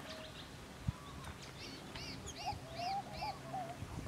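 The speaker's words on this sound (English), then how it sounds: "There's masked finch, huh? And there's a female triller." Wild birds, including a masked finch and a female triller, call in a series of short, rising and falling whistled notes, moderately close over a soft outdoor background with one brief knock.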